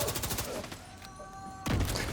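Rapid bursts of video game gunfire crackle in quick succession, then pause briefly before a louder, heavier volley at the end.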